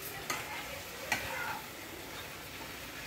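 Spices with Kashmiri red chili are stirred in a hot pan, a soft steady sizzle broken by a few sharp spatula scrapes and ticks, fairly quiet with no talking.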